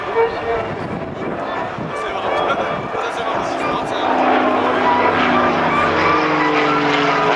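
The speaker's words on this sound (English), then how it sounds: "Quite a pleasant, old-fashioned grumbling sound from the two Renault." Two Renault aircraft engines at an airshow give a steady old-fashioned grumbling drone that swells slightly as it passes, with a voice talking over it.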